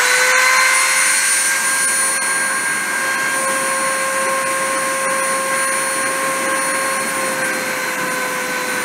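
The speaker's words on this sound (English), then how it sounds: "I'm going to move into position, start up the spindle, and start printing." A printing machine's spindle runs steadily at a constant pitch, a close, loud, high motor whine with a hissing airy edge that holds unbroken for nearly nine seconds.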